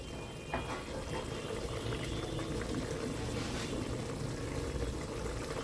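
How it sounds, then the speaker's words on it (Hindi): Soaked pulao rice is poured into a pot of hot, cooked matar pulao water, giving a continuous wet rushing and sizzling wash that stays steady and fairly close. "अब हम इसमें डाल देंगे चावल।"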